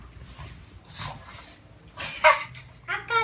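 Wet dog moving about indoors, giving short whimpers and yips between rustling, with a person talking nearby.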